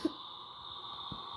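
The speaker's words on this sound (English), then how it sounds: "I just had to cough." A person coughs in two short, sharp bursts, one at the start and one at the end, separated by a quiet stretch with a faint steady hum behind.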